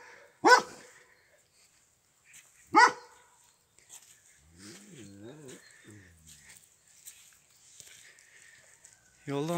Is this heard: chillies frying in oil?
no